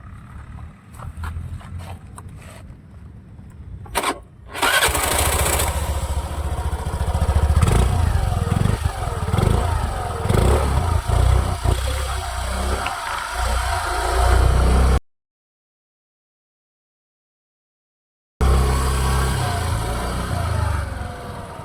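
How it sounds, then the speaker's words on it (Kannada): A Suzuki Avenis scooter's exhaust note, close by: a few clicks and a brief start, then a loud revving engine with varying throttle, cut by a few seconds of silence before idling resumes. "ಆವೆನೀಸ್ ಒಳ್ಳೆ ಬ್ರ್ಯಾಂಡು ಸುಜುಕಿ. ಇದರ ಎಕ್ಸಾಸ್ಟ್ ನೋಟ್ ಕೇಳೋಣ ಬನ್ನಿ."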